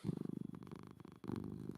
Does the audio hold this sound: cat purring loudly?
yes